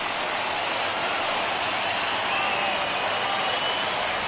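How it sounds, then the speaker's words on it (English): A baseball stadium crowd in the video game MLB The Show 21 roars in a dense, continuous wash of cheering and noise during a late rally, loud and unbroken throughout. "listen to this crowd now. They are really into this."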